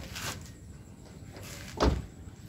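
A car door opens after being unlocked with the remote key: a soft click near the start, then a firmer mechanical clunk of the latch and door about two seconds in, both close and fairly quiet.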